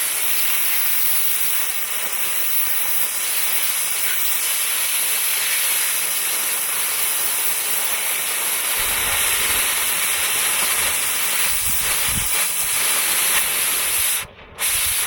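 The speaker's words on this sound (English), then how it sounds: "Cut them off with the torch or plasma cutter. We're using a torch right now." An oxy-fuel cutting torch burns through huck bolts during an axle removal, giving a steady, loud roaring hiss that runs unbroken for about fifteen seconds, with a brief dropout near the end.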